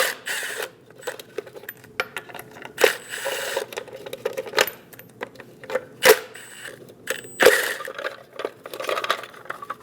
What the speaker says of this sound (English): Using a 21mm socket, we're going to remove all of these lug locks